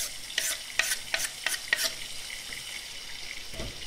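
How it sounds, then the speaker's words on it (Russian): A spoon stirs a thick eggplant mixture with vinegar and flour in a pot, with several quick scraping strokes early on, then a softer, steady stir and a faint sizzle. "Все перемешиваем."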